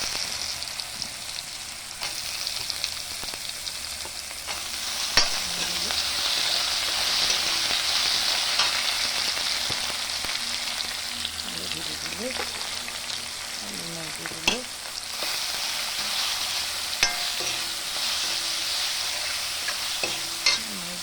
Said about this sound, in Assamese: আদা নহৰুখিনি ভাজি থাকোঁতে মই আলুকেইটা দি দিলোঁ